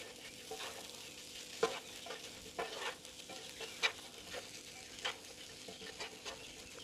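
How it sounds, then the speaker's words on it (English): Onion samosa filling with coriander mixed in a pan with the stove just switched off: soft spoon scraping and stirring over a faint lingering sizzle, with a few sharper knocks against the pan and no speech. "Now you can switch off your stove and give this a good mix."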